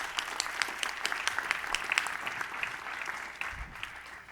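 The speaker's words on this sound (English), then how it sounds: "Let's give all of our panelists a round of applause." Steady audience applause for a panel discussion on bridging divides in America, a dense even patter of many hands clapping at moderate volume throughout, with no talking over it.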